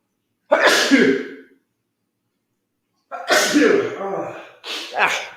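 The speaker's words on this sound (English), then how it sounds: "I'm going to sneeze." A person sneezes loudly and close by: one full sneeze, a pause of silence, then a second sneeze followed quickly by a shorter third.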